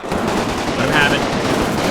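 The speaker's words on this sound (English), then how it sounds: "See one of our men firing. This is what we need, just continuous fire." Soldiers lay down continuous machine gun fire in the WWII game Combat Mission: Final Blitzkrieg, a dense sustained rattle of gunfire that fills the whole stretch without a break.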